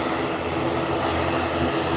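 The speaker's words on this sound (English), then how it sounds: "another plane is landing as well." Airplane landing at an airport, a continuous loud engine roar with a steady broadband rush and propeller-like drone, close and unbroken throughout with no voices.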